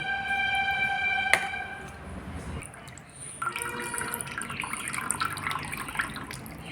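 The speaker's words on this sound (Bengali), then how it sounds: "চাল কুমড়োর জলটা লাস্টে এভাবে চা ছেঁকনি দিয়ে ছেঁকে নিচ্ছি" Ash gourd water is strained through a small tea strainer, giving faint, close trickles and drips with a few light metallic clinks.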